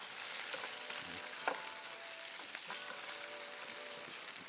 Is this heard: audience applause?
no